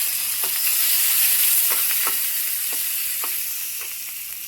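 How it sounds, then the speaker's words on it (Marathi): Steady oily sizzling of garlic frying in oil with asafoetida, curry leaves, ginger-garlic paste, coriander and turmeric, scattered small crackles and pops, close and fairly loud, fading slightly toward the end. "तर लसूण छान फ्राय झाला"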